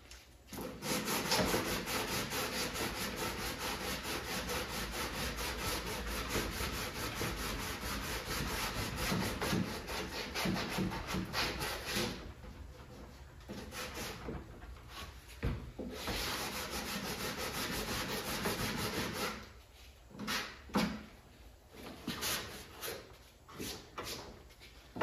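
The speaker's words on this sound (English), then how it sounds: "Try and get all these edges sanded up." Hand sanding along the edges of a wooden Tapper arcade cabinet, long rhythmic rasping strokes, loud and close, continuous at first and then breaking into shorter separate passes with gaps.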